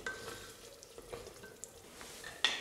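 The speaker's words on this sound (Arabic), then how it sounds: "نخلوه يتقلى حتى يذبل البصل تماما" Meat and onions frying gently in a covered pan on low heat, a faint soft sizzle with small crackles and a brief clink near the end, no talking.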